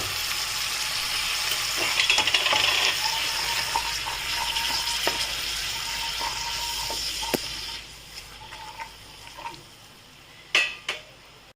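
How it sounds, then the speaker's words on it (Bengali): Spice paste with ginger frying in a pan as a little water is added for slow cooking down for chicken kofta curry, a busy sizzle with utensil scrapes and clinks that eases into quieter stirring and a few sharp knocks. "সামান্য জল দিচ্ছি এতে কষানোর জন্য।"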